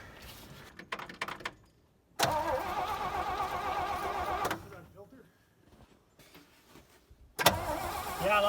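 A 1967 Chevy C50 truck with a freshly rebuilt carburetor cranks and catches in several loud bursts separated by quiet gaps, with voices talking faintly in between.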